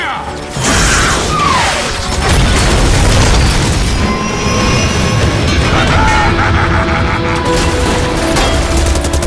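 Rockets fire and explode in an animated Overwatch battle scene, a loud booming barrage with rumbling blasts and mechanical clatter filling the clip almost continuously after a sudden onset, with voices shouting briefly.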